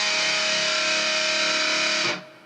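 An electric guitar chord rings out through a distortion effect, a thick sustained buzzing tone held for about two seconds before it is cut off and decays quickly.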